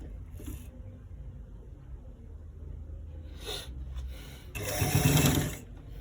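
Sewing machine stitching the inner pocket of a V-neck garment, with short intermittent whirring bursts, the last one longest and loudest, over a low steady hum.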